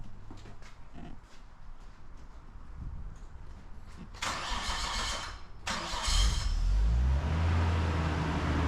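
A Nissan Skyline R34 sedan cranks and fires up, the starter whirring before the engine catches with a loud rise, then settles into a steady rumbling idle close by.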